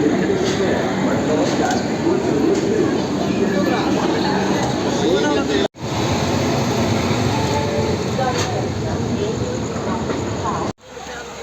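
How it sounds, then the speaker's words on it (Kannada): Vasco to Hazrat Nizamuddin passenger train pulling out of a station, a loud continuous rumble and hiss of the moving coaches heard from on board, broken by two short dropouts, with no talk audible. "ನಮ್ಮ ಟ್ರೈನ್ ಬಿಡ್ತೈತೆ ನೋಡಿ"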